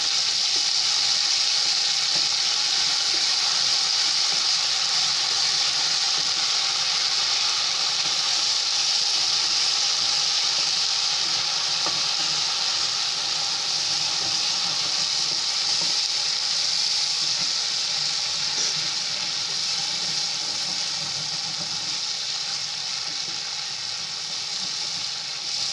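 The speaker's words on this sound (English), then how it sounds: "So I'll now add my tomato paste. I'll give it a good stir." Tomato paste frying in a pan with browned onions for a tilapia stew, giving a loud, continuous hissing sizzle that holds steady for the whole stretch with no talking.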